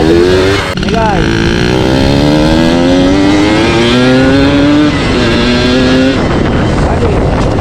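A motorcycle fitted with a big carburetor revs hard and loud, its engine note rising and holding in a long strained wail before dropping off, with wind rush throughout.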